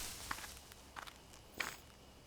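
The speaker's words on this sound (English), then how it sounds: "there's footsteps close by" Footsteps rustling through bushes in a horror adventure game, three faint, separate crunching steps spaced apart against quiet background ambience.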